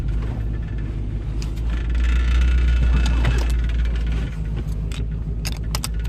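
A 1984 GMC Sierra Classic truck with a manual clutch reverses, its engine a loud close low rumble that swells briefly midway, with small rattles and clicks from the cab on top.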